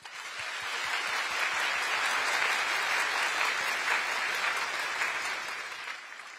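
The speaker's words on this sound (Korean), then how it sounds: "여러분 다시 한번 우리 교육생들에게 격려의 박수 부탁드립니다" A hall audience gives steady, dense applause of encouragement for newly trained public-service managers, swelling quickly and holding evenly before tapering slightly near the end, with no talking over it.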